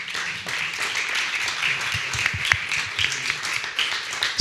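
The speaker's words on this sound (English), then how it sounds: "We are going to have a big round of applause to all these great guests" Conference audience at a humanitarian climate resilience event gives guests a round of applause, moderate, steady clapping from a crowd with a few sharper individual claps standing out.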